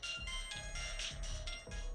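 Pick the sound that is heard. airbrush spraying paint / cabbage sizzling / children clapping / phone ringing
phone ringing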